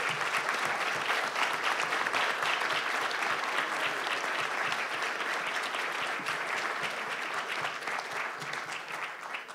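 A seminar audience applauds after a talk on threats to democracy, sustained thick applause from a large room filling the whole stretch at even strength, tapering slightly at the end.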